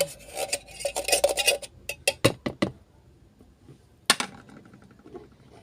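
Spoon clinking against a dish while stirring mango graham float mixture, a run of sharp metallic taps and scrapes that pause and then return briefly, close up with no talking.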